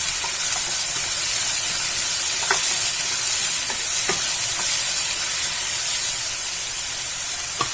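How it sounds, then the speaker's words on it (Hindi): Tomatoes sizzle and hiss steadily in a hot pan while being stirred for a vegetarian thali curry. There are a few soft scraping clicks from the spoon, and no talking. "अब इसमें हम टमाटर डालेंगे, इसे भी हम मिला लेंगे"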